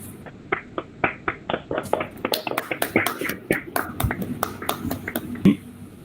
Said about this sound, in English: Please have a big round of applause for sir.